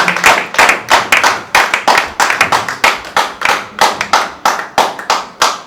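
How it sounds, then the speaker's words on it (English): A small audience at a book launch claps steadily for several seconds, crisp close hand claps in a fast, slightly uneven rhythm with no talking. "Please let's clap for him."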